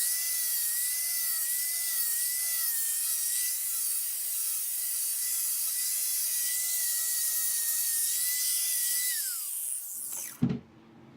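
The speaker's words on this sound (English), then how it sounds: "how aggressive this sandpaper is and how fast it'll round your edges" A power sander with aggressive sandpaper rounds over the wooden edges of a cornhole board, a loud, steady whine held for about ten seconds before cutting off abruptly with a brief clunk.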